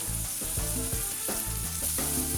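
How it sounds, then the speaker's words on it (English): Mushrooms and onion sautéing in a pan, a steady close sizzle and crackle of frying with occasional stirring scrapes, no talk. "In a pan, I'm going to saute some mushroom and onion to place on top of the"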